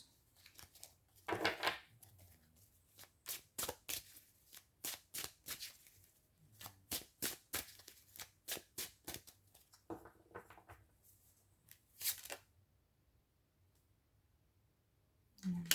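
Playing cards being shuffled in a long run of crisp riffling bursts, each a rapid fluttering snap, repeated with brief pauses over about sixteen seconds, close and fairly quiet with no talk.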